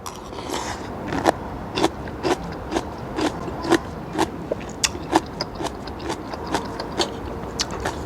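Someone bites and chews a raw, crunchy lotus stem, a series of sharp, close crunching snaps repeating irregularly about every half second, loud against quiet background.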